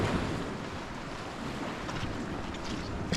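Ocean waves wash steadily onto a sunny beach below a mountainside, a continuous loud surf roar mixed with wind buffeting the microphone and no talking.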